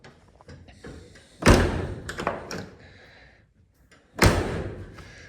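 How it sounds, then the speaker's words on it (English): Two heavy door slams on a 1985 Dodge D100 pickup truck a few seconds apart, loud and close, with some faint rattling and shuffling between them. "door shuts real nice."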